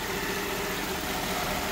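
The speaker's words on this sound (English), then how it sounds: "Engine sounds very good." A 2006 Mercedes-Benz S430 4Matic idles steadily, a smooth even engine hum at moderate volume with no voices, briefly heard.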